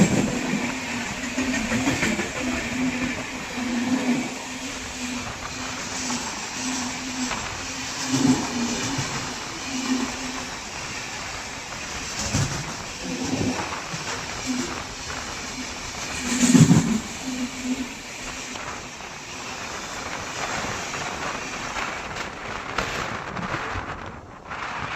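The North East Express passes at a railway crossing in India, a steady rolling rumble of train wagons with rhythmic clickety-clack and wind buffeting, plus a brief louder surge partway through.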